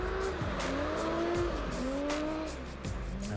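A four-wheel-drive, four-wheel-steer Andros Trophy ice-racing car in Andorra, built on a space frame with a 3-litre V6 petrol engine under a Renault Captur silhouette body, revs hard through rising and falling engine notes with tyres squealing, close and loud.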